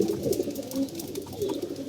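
Pigeons cooing steadily, soft throaty warbling calls overlapping nearby with faint chirps in the background.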